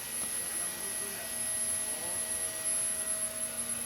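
Gas turbine running under dynamometer load on a test rig, giving a steady, continuous hum with a high tonal whine and a broadband rush that holds level throughout, with no talk.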